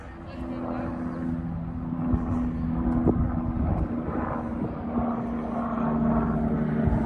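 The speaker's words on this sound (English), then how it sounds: "helicopter flying over the top of the airport" A helicopter passes over the airport by the Midland Air Museum in Coventry, its steady engine drone humming at moderate distance beneath faint outdoor ambience.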